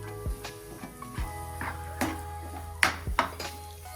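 Spoon scraping and clinking against a pan while garam masala is mixed into a samosa filling, a few irregular metallic knocks and scrapes, fairly close and moderate, with no voices.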